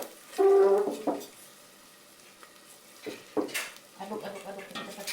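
Chicken soto broth stirred in a pot, with a loud clatter of utensil on metal, quieter scraping, then several more knocks and stirring bursts, close by with brief talk.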